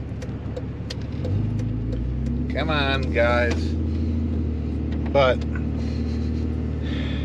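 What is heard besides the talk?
Cummins diesel truck engine running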